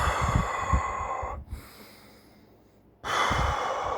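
A person imitates heavy, exercise-style breathing with loud, rough breaths, then a pause of about a second and a half before the hard breathing resumes. The breaths are close and dominate the sound.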